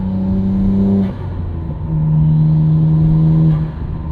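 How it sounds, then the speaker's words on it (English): Twin turbo 1999 Nissan Skyline R34 GT-R on the road, loud engine drone and induction whoosh from inside, rising and settling as the driver works the throttle, with no talk. "Induction noise from this car too."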